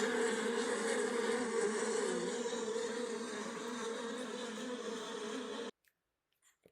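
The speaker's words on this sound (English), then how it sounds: "Bees buzz." Bees buzz in a steady, dense, droning hum that holds for several seconds, then cuts off abruptly into near silence.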